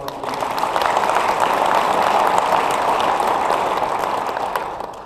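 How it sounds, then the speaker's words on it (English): Sustained, even applause fills a hall at a National Fire Academy executive leadership graduation, honoring a co-instructor, a dense wash of clapping that swells and then gently tapers off. "We give a round of applause for him."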